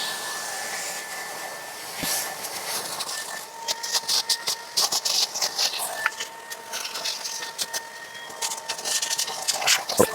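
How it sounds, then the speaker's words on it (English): A shop vac sucks debris out of an LG washer dryer combo, a steady whining airflow that turns into choppy, fluctuating bursts and rattles as the nozzle moves around, close and moderately loud without speech. "using the shop vac on it, clearing it out"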